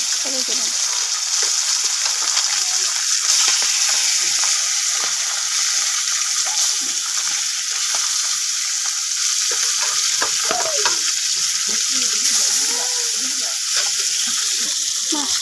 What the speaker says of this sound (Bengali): মাছটা ভেজে নিচ্ছি বন্ধুরা